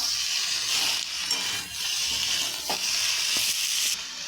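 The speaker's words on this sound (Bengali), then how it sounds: "নাড়াচাড়া করে নেবো" Small fish with turmeric, cumin and salt being stirred in a hot pan for a fish and eggplant curry: a continuous close sizzle with soft scraping stir strokes, no talking.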